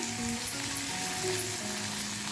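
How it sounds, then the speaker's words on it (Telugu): Curry leaves and asafoetida crackle in hot oil for a tempering with broken dried red chilli, a steady close sizzle with no voices. "తిరగమాత వేగిపోయిందండి దాంట్లో కొంచెం కరివేపాకు ఇంగువ వేసుకోవాలి"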